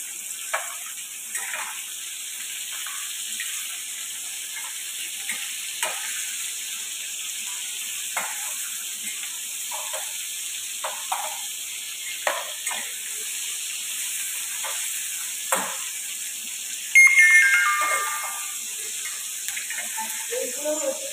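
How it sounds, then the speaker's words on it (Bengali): Crab pieces fry in hot oil with a constant bright hiss. Occasional soft spatula taps break it, and a louder crackling burst rises briefly near the end. "এবার মোটামুটি আমার এগুলো ভাজা হয়ে গেছে, আমি এগুলো তুলে নিচ্ছি।"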